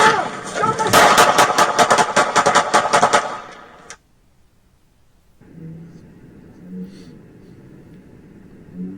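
Rapid gunfire rings out in a dense burst from a police officer's duty weapon during a shooting, many sharp cracks over about four seconds, followed by near silence and faint background sounds.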